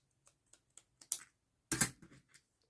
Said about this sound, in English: I need to cut some of this off.